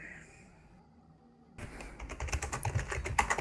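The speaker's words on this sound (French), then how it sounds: "Désolé le clavier." Rapid computer keyboard typing starts abruptly partway through and continues as a dense, close, clattering patter of keystrokes, loud and unbroken to the end.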